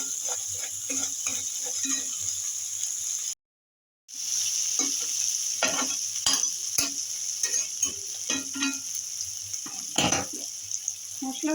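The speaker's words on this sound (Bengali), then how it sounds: "দিয়ে দেবো স্বাদ মতন নুন, মশলাটা একটু ভালো করে কষে নেব" Masala spice paste with salt stir-fried in a pan for a Bengali-style small-fish curry: continuous sizzling with repeated scraping strokes of a spatula, briefly cut to silence partway, then resuming with louder clatters.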